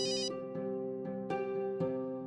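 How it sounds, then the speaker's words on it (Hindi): A phone ringtone sounds in a domestic scene from a Hindi TV serial: a bright, repeating electronic melody of sustained tones, steady and fairly loud, with no one speaking. "विजेंद्र का फोन।"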